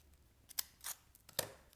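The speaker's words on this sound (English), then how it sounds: "I'm going to take our corner punch, and I'm just going to dip that little corner in there," A corner punch snips the corner of Silver Glimmer cardstock during Christmas gift tag crafting. It gives a few crisp, close clicks and snaps, with two sharper punches standing out in an otherwise quiet room.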